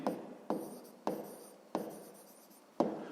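A pen writes a math solution by hand on paper, a close, dry scratching in five separate strokes of about half a second each, with no other sound.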